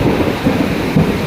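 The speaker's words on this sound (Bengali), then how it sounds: "দেখতে পাচ্ছেন প্রচণ্ড বৃষ্টি হচ্ছে মুষলধারে।" Torrential downpour in Piruzali union, Gazipur, a loud, continuous roar of rain close by with low rumbling swells that suggest thunder. No voices.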